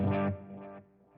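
A distorted electric guitar chord with delay and reverb and no compressor, a loud initial strike followed by a softer repeat and a decaying reverb tail, close and alone.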